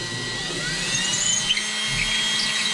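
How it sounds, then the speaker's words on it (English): An electric drill with a 3/16 bit drills a hole in pantry fittings, giving a steady close high whine with a slight wavering pitch. No talk. "we're just drilling a hole"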